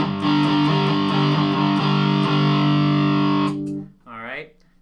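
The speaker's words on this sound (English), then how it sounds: "you can do a down shot with distortion" An electric guitar is struck in a single down strum through a distortion effect, a thick sustained chord that rings loudly for several seconds before being cut off, followed by a brief wavering tone.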